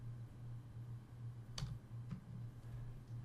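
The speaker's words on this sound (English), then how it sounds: "I'm going to type in here and I am going to search for it." Quiet typing on a computer keyboard: a few scattered soft key clicks over a low steady hum, faint and close, with no talking.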